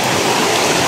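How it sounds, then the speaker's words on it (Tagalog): Strong water flow at a forest waterfall, a dense, steady close rush of falling water with no talk over it. "Guys, oh, ang lakas ng tubig."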